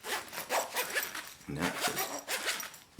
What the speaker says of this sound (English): Got a nice heavy duty zipper